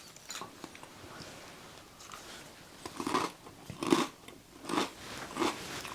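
Salt and vinegar crisps bitten and chewed close up during a beer and bar snack tasting, a faint start building into several loud crunchy bites and chews in an irregular rhythm, with no talk.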